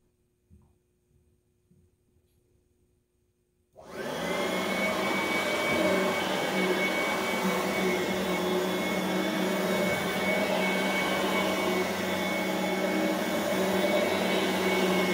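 An Oreck XL21 upright vacuum cleaner switches on after a few quiet seconds and then runs with a steady, loud motor whine and hum in a fellowship hall.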